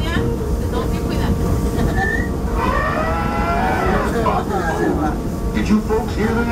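The Disneyland Railroad train rolls along with a steady rumble and clatter. A narrator's voice talks over it, and a cattle moo sounds partway through from the ride's scenery.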